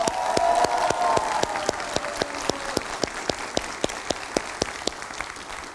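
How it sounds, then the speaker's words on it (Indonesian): A TV studio audience claps in unison, crisp rhythmic hand claps landing at a steady beat, moderately faint, with a brief sustained tone and murmur near the start. "Kita berikan tepuk tangan."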